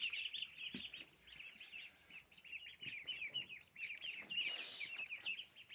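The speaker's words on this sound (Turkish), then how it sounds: "Cücük aldık. Ördek cücüğü." Week-old ducklings kept in a small enclosure peep continuously in high, thin repeated calls, a chorus of chirps close by, with occasional soft knocks and rustles in the quiet background.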